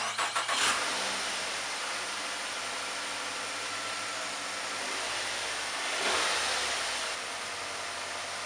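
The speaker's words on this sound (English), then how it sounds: "I'm about to start my car after leaving it charged for about 10 hours or so" A car engine, started after its battery was charged, cranks briefly with a quick stutter and catches into a steady idle, then swells in a short rev before dropping back to a smooth idle; no one speaks.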